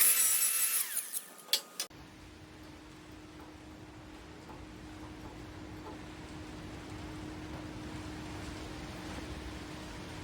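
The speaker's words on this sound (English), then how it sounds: "Clean that burr off it." Power tool deburring a fabricated metal spreader bar: a brief, bright grinding burst in the first two seconds, then a steady lower whirring hum that continues to the end at moderate level.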